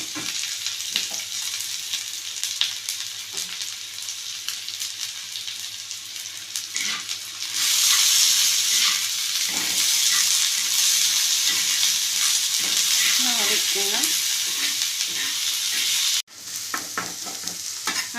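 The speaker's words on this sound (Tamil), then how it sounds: "இப்போ நம்ம எடுத்து வச்சுருக்க வெங்காயம் இதில் சேர்த்துக்கணும்." Onions, coriander and curry leaves sizzle and fry steadily in a hot pan for a Madurai-style egg dish, with stirring scrapes throughout and a louder burst of sizzling midway, no talking.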